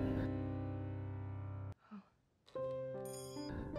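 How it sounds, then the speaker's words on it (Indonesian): A bell rings in the dark, a sustained bright chime that cuts off, pauses briefly, then rings again with layered clear tones, near and fairly soft. "lalu terdengar suara lonceng"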